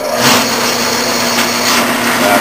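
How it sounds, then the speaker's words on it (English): A machine shop machine runs steadily in reverse to back a tap out of the workpiece, giving a loud, even mechanical whir with a faint high whine and no talk. "I just turn the clutch off, and I'm going to reverse the machine,"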